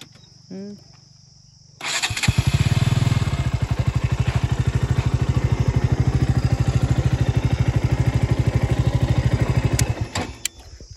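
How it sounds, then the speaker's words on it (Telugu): A KTM RC 200 motorcycle with a broken silencer starts up and idles with a loud, rapid, raspy putter, its rhythmic exhaust thumps harsh and uneven, then cuts off. "మన బైక్కి కొంచెం సౌండ్ వేరే వస్తుంది"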